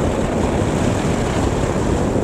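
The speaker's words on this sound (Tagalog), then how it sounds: "Ang lakas ng hangin, grabe." Strong mountain wind roars and buffets the microphone continuously near a waterfall on Kennon Road, Benguet, a loud, dense rumble with no other sounds breaking through.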